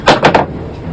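A pair of pliers drops inside a sailboat's compartment near a tank, giving two or three quick hard clattering knocks that fade fast, close and loud.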